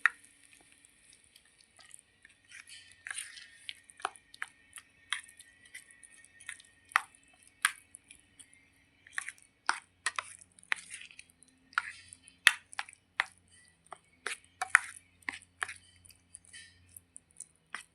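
Cucumber and brinjal chutney being mixed with its tempering: soft, wet squishing and dripping sounds in an irregular rhythm, close and faint, repeating over many seconds without any talking.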